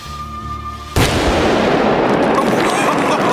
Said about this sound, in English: The acetylene explodes, ripping the tin apart with an ear-shredding bang